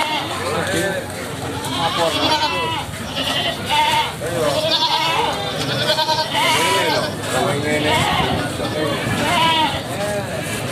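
Kambing kacang goats bleat repeatedly at Kliwon market in the morning, with loud, overlapping bleats close by and voices chatting among them.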